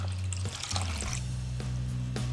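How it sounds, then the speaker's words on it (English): Three quarters of a cup of white vinegar being poured into tomato soup for a ham sauce, a steady, soft liquid pour with a faint trickling splash over a low background hum, and no talking. "Then we pour in our vinegar."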